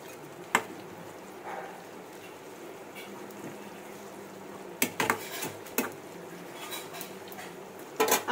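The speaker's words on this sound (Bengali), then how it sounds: "দিয়ে কিন্তু সুন্দরভাবে একটু নাড়াচাড়া করে নেব।" Biryani masala being stirred through an aloo paneer biryani in a cooking pot, with soft scraping and clinks of a utensil against the metal, a few sharper knocks near the middle and end over a quiet kitchen background.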